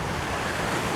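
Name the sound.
strong wind and waves on ocean rocks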